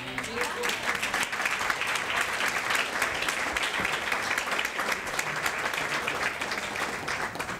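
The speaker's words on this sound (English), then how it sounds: "You don't have to clap for me." Audience at a lecture on masculinity claps steadily and warmly for several seconds, a dense even patter of many hands, with a voice faintly audible under it.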